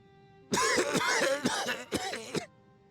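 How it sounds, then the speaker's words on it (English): A character in Final Fantasy XIV coughs harshly several times in a row, loud and close, with short breaks between the hacking bursts. "That was him coughing."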